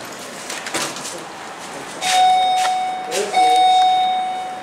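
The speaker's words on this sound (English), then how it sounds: "Ring the bell." Elevator chime rings inside a Delaware Smart Rise hydraulic elevator at an Ocean City, Maryland condo, two bright sustained dings a second apart over faint cabin hum, with brief talk just before.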